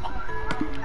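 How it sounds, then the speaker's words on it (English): A Minecraft chicken clucks in short bursts, caught by the player, with game ambience and faint background noise around it. "I caught myself a chicken."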